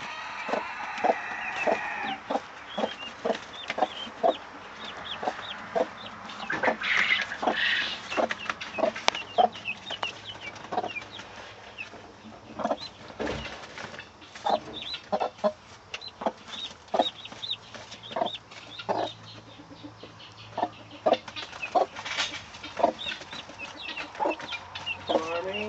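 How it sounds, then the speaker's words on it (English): A mother hen and her baby chicks cluck and peep in short, irregular bursts, close and fairly loud, with sharper chirps scattered among the softer clucks and no talking. "I'm going to check the chicken and her babies."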